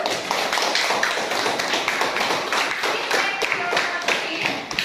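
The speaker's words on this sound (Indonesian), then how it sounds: "Please give one more applause to group 2" Classroom applause for a student group after their presentation, a steady dense patter of many hands clapping at close range, continuous throughout with no voices on top.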